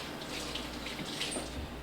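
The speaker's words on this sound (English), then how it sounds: "So I am going to give the corn a little rinse." Tap water runs steadily over ears of corn at a kitchen sink, a soft continuous splashing rush with no talking.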